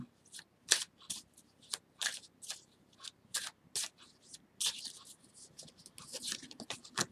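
Tarot cards handled, shuffled and laid out on a table in quick crisp flicks and taps, a close irregular run of papery snaps with faint talk underneath.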